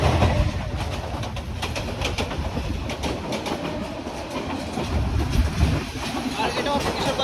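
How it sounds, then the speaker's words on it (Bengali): The Egarosindhur Express passenger train from Kishoreganj runs past, a continuous loud rolling rumble with rhythmic clickety-clack of wheels, and birds faintly audible. "আর এটা হচ্ছে কিশোরগঞ্জের 11 সিন্ধু এক্সপ্রেস,"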